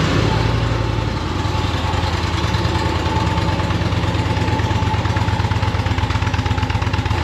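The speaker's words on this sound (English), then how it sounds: "Let me give you a cold start with the Indian motorcycle and its stock exhaust." An Indian Challenger V-twin motorcycle with its stock exhaust idles steadily after a cold start, a loud, close, continuous rumbling throb with no break.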